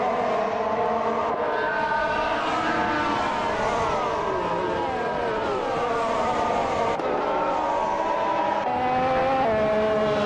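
F1 2014 race cars, led by a Lotus E22, racing in a video game, several loud engines whining and sweeping in pitch as they pass close, one after another, without talk.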